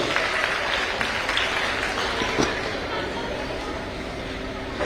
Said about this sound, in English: Let's do a bigger round of applause, everyone.